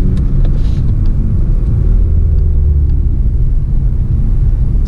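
A Volkswagen MK7 GTI drives over snow-covered roads. A loud, close, continuous engine and tyre rumble holds steady for the whole stretch, with no one speaking.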